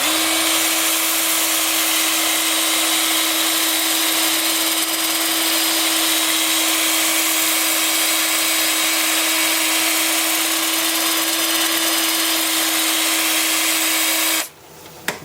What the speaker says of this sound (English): So I've got the lathe spinning faster than normal.